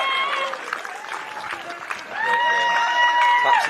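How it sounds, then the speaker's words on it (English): Crowd applause and cheering ring out as a runner finishes the Varsity Mile at an Oxford v Cambridge athletics match, with a commentator talking over the clapping and a rising swell of cheers in the second half. "Coming down the final straight to the applause of the crowd"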